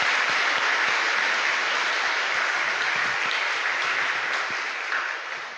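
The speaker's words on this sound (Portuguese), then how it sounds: "Umas palmas fortes para os nossos capitães." A church congregation gives a strong round of applause for its captains, steady and full from start to finish before easing slightly at the end, with no voices over it.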